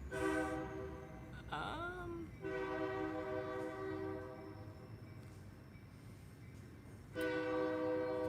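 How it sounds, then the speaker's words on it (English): A train rumbles past steadily, its horn sounding loudly in two long blasts, one at the start and one near the end, over continuous low track noise. "I'm saying this while the train's going by."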